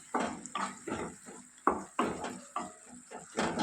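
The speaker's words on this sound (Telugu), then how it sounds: "టమాటా ఒకసారి కలుపుకుందాం" A spoon or spatula scrapes and clinks through tomato curry in a pan, giving several short, irregular strokes up close with quiet pauses between them.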